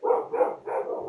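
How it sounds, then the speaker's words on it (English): Dogs bark in three quick, moderately loud bursts, heard fairly close with no talking over them. "I got to see what my dogs are barking at real quick."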